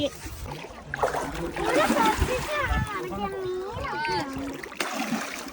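Water splashes as someone steps into a rocky stream pool at Panamkuzhi to bathe, a close, uneven sloshing heard beneath a person talking throughout.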